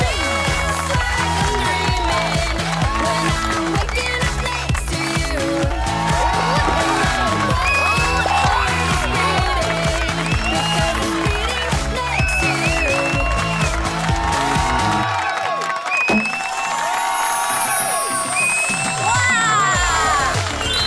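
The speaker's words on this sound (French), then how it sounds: "Sous les acclamations de la foule" Crowd cheering at a cheerleading pom-pom performance, a continuous loud roar of voices and applause with music-like tones throughout, briefly dipping near the end before whoops resume.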